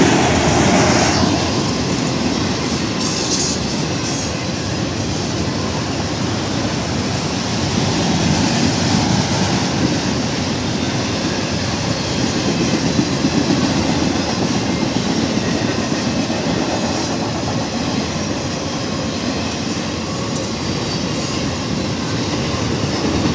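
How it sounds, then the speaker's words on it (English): A CSX freight train led by engine 742 rumbles past close by in Altamont, Illinois for a long stretch, wheels clacking steadily over the rails with a continuous loud roar. "this is a CSX 742 engine"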